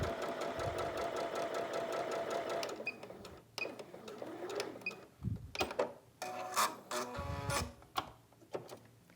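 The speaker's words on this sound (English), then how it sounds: "I'm going to line it up under my machine, right to that 1/4 inch foot, and I'm ready to sew." A home sewing machine stitches quilt fabric under a quarter-inch presser foot, running in a steady close whir for a few seconds before breaking into short bursts of stitching with pauses between them.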